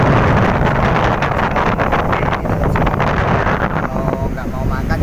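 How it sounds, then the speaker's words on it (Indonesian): Strong wind buffeting the microphone on a beach during surf fishing, a loud continuous roar filling the whole stretch, close and unbroken. "angin gede lur"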